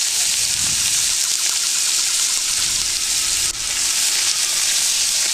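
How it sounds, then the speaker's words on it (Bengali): Sliced onions fry in hot oil in a wok for a Bengali lote fish dish, giving a loud, continuous, close-up sizzle with occasional stirring scrapes and no talking. "পেঁয়াজটা ভেজে নেব"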